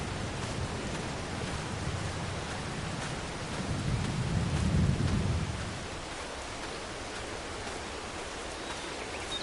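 Steady rain hisses over farm fields in the Farming Simulator 22 game, with a deep rolling rumble of thunder swelling midway and fading again, no talking over it.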